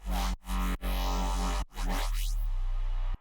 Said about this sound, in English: You can play with the tilt and get some pretty crazy sounds like this.